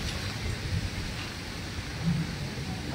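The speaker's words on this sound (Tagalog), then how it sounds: "Tumila-tila na yung ulan" Rain falling in a foggy forest at a moto camping site, a steady dense hiss with low rumbling underneath, continuous throughout.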